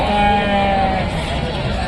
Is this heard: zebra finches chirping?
no